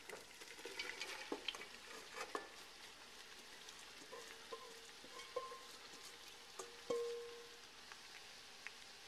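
Onions sauté in browned butter for French onion soup, giving a faint, steady sizzle with scattered light clicks and scrapes of stirring, quiet and fairly close, with no voices.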